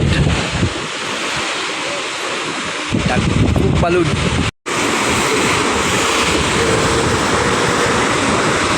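Big ocean waves wash against the shore along Manila Bay in Navotas, a broad, continuous roar mixed with heavy wind buffeting the microphone, with a brief dropout midway.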